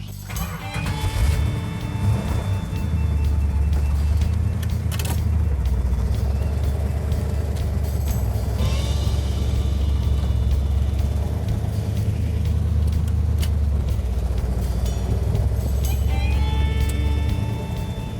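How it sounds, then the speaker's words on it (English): A car with a numbers-matching 340 engine idles and runs in gear, a steady, fairly loud low rumble with some clattering and knocking sounds over it, continuous throughout. "Now we're gonna go ahead and get the car running and put it in gear"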